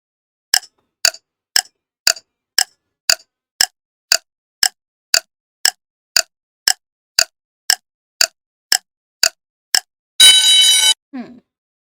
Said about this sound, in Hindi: मैं टाइमर लगा रही हूँ।